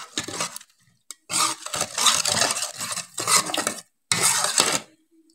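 Milk mixture for chaat cream being stirred in a metal pot, close scraping and clinking of a spoon in several bursts separated by brief silences.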